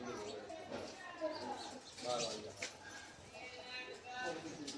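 Sparrows around a nest hole give scattered chirps and calls, fairly faint and intermittent, mixed with a person talking nearby.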